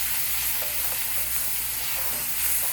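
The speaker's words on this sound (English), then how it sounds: "Then we're going to stir it up." Clams cooking in a pan for a wine sauce, stirred amid a steady loud sizzle with faint scraping from the utensil and no speech.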